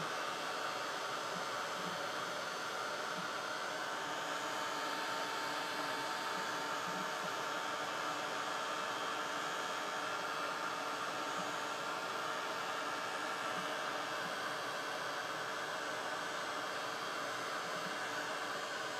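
A hair dryer runs steadily and close, drying the freshly painted black side of a plastic drink lid, its airflow a continuous loud whoosh with an even hum throughout and no talk over it.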